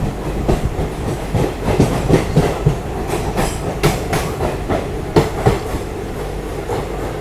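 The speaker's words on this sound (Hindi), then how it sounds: "गजब का ट्रैक साउंड आ रहा है।" Train wheels of the Pune–Ahmedabad Ahimsa Express clatter steadily over the track near Lonavala in a loud, continuous rumble, with sharp rhythmic clicks from the rail joints.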